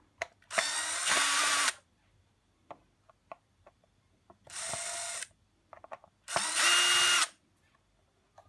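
A power drill unscrews the four screws holding the cover on a Zinsano FA1002 pressure washer that will not switch on and gave off smoke. Three loud whirring bursts are separated by quiet gaps with small clicks and taps.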